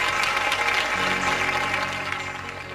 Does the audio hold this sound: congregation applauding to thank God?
yes